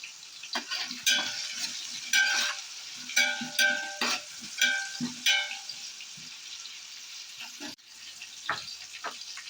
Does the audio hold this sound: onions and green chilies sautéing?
yes